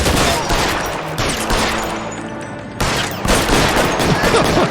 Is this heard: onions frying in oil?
no